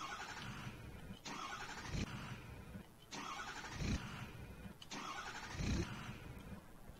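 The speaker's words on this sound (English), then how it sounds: "Let's give it a few cranks." A diesel truck starter cranks repeatedly in extreme cold, three separate bursts of steady whirring, each a couple of seconds long, with short pauses between and no catch, close by.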